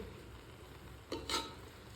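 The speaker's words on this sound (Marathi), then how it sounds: "तर मी ह्याच्यामध्ये आता संपूर्ण जो गाजराचा किस आहे तो व्यवस्थित परतून आणि भाजून घेणार आहे" Grated carrot is stirred and fried in hot ghee, a faint, soft sizzle with two brief scraping stirs near the middle, quiet and close.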